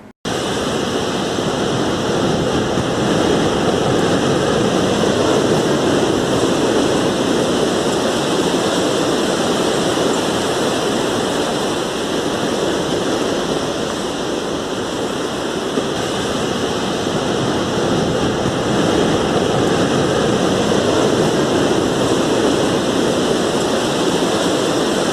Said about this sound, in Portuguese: É a praia